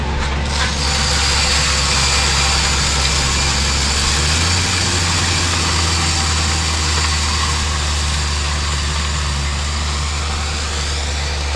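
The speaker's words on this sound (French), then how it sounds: "On entend le tracteur, le Deutz." A Deutz tractor engine runs steadily close by, a loud continuous diesel drone with a deep low hum that shifts pitch slightly midway, along with mechanical whine and clatter and no talking.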